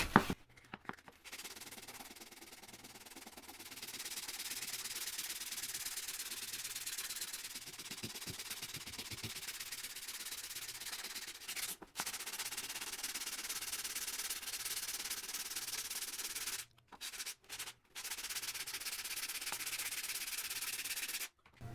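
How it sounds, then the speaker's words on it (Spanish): Steady, close rasping of coarse sandpaper rubbed over hardened automotive body filler, continuous for long stretches with a few brief pauses. "Estas cositas poco a poco las vamos a ir rebajando con las lijas más delgadas"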